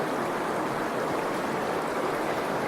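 Steady, full rush of stream water flowing past a sandbar, close and constant with no breaks, alone without voices.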